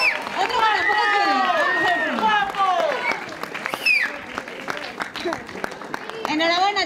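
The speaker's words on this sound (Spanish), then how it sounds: "Un fuerte aplauso, enhorabuena." Applause and cheering for junior runners at a San Silvestre race prize-giving in Aibar-Oibar, scattered claps under lively crowd chatter and excited young voices, with an announcer talking.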